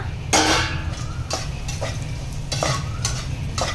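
Almonds stirred and roasting in a pan for dry-fruit ladoo, giving a near, steady scraping and rattling with a soft sizzle and repeated sharp strokes of the utensil against the pan.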